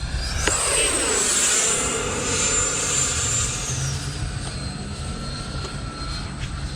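An E-flite F-16 RC jet with a 70mm or 80mm electric ducted fan screams past on a windy approach, its steady high whine rising and then fading as it sinks and climbs.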